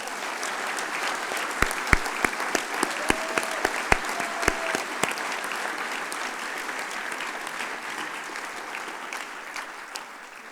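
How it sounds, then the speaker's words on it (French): Applause from the audience at the closing session of a French national conference, steady scattered clapping that stays fairly faint and even, with a few sharp individual claps standing out early on. "On peut l'applaudir."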